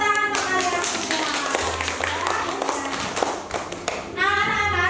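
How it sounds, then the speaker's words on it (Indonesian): Children in a classroom applaud together, a burst of rapid, dense clapping that fills the room, with children's voices rising at the start and end. "Tepuk tangan untuk kalian semua."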